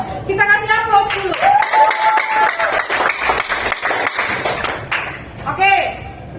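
Applause breaks out in a classroom after group presentations. The clapping is dense and close, with a chime-like ping at the start and end and voices mixed in.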